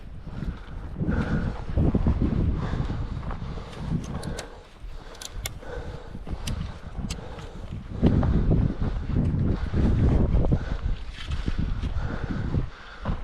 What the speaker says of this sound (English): A little windy up here right now.